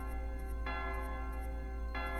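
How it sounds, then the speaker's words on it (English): A church bell tolls twice in the King's Quest 2 remake game, each stroke a bright ringing onset, one near the start and another about a second later, over a steady hum of background music. "The church bell is tolling."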